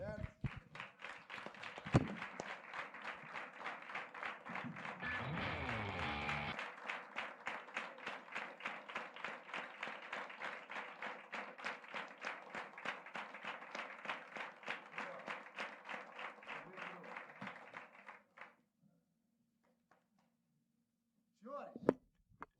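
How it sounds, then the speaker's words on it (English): A church conference crowd claps in a fast, steady rhythm for about eighteen seconds before it stops abruptly, leaving quiet with a brief sound near the end. "Let's give Jesus a round of applause."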